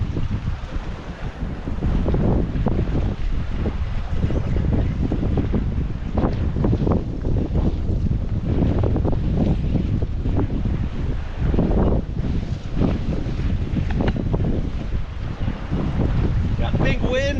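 Strong wind roars and buffets the microphone over choppy water and big waves during salmon fishing with spinners from a boat in late September, a loud continuous rush with no talk.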